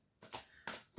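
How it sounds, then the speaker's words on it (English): Tarot cards being shuffled by hand, two or three quick soft riffling bursts close up and faint, with no talk. "I have got the lovely angelic tarot cards that I've just been shuffling"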